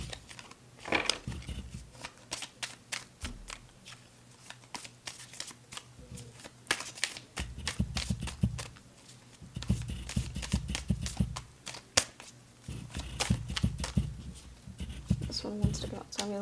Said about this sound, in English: Think of a question as I am shuffling.